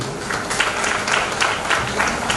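Wedding guests clap their hands in approval during a marriage ceremony, a steady, dense round of applause from a crowd filling the room.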